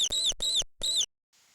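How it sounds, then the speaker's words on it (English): A small mouse gives three sharp, high-pitched squeaks in quick succession, the second pair close together, followed by a brief faint tail of noise. "The mouse squeaks when scared."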